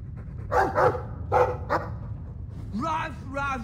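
A dog in the Dragon Age 2 video game barks several times in short, close bursts, followed by higher whining yelps over a low background rumble.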